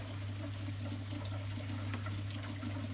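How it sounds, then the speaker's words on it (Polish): Steady rushing water flows through a swimming pool's zeolite filter, continuously over a low, constant pump hum, with no voices, loud and close throughout. "I woda zasuwa już nam przez filtrację"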